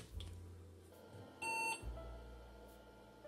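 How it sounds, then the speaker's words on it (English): A single short electronic beep as an IBM 5150 clone computer powers on, clear and brief, against a faint low hum. "Got a beep."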